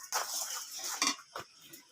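Utensil scraping and stirring sugar in a pan as it melts toward a light caramel for a sweet-sour mango pickle, a few close clinking strokes with short pauses between them.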